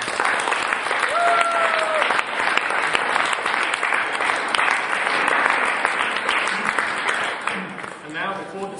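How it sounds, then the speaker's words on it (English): Audience at an international debate academy finals in Slovenia applauds the four finalist teams, a dense sustained wash of clapping filling the room, with a voice briefly audible at the start and the clapping tapering at the end. "we have one more round of applause for the 4 teams"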